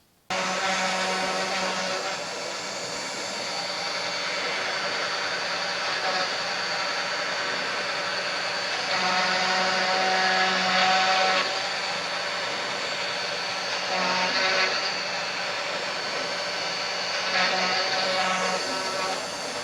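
A CNC router cutter machining wooden stock, a continuous high whine with a dense roar that shifts in pitch as the bit moves through the wood, steady and alone for the whole stretch.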